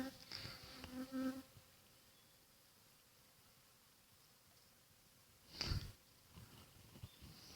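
Honey bees buzz faintly around an opened hive, with a few close passes by individual bees rising briefly above a quiet outdoor background.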